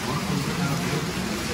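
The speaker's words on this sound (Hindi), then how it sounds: "इधर पूरी जबरदस्त बारिश लगी हुई है कॉन्टीन्यू" Heavy, continuous rain pouring down as a steady, dense, loud hiss with no breaks.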